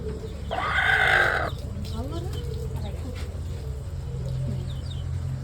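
A native hen clucks loudly up close for about a second, then quieter bird calls and farmyard murmurs continue over a steady low rumble.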